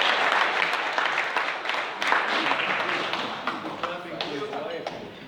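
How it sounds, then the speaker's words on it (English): Audience applause at an academic meeting, a dense patter of clapping that starts strong and slowly thins out, with some talking mixed in underneath. "Let's clap for him."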